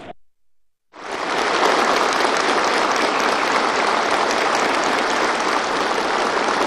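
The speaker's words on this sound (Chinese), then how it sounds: "在热烈的掌声中" Warm sustained applause from a large crowd at a formal ceremony for the 20th anniversary of Macau's return in 2019, starting abruptly after a short pause and continuing loud and even.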